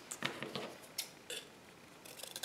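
Scissors snipping paper or cardboard pieces for homemade art mark-making tools, heard as a few faint, sparse, close clicks and crisp snips with quiet pauses between them.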